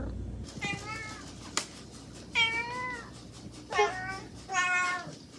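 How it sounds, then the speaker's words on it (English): A cat meows several times, clear drawn-out calls with rising and falling pitch, spaced a second or so apart, close to the microphone in a quiet room. "And it said, she meows and talks to you."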